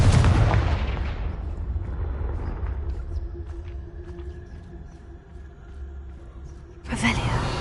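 A Confringo blasting spell goes off in Hogwarts Legacy with a loud, booming explosion that rumbles and slowly fades, followed by a second sharp burst near the end.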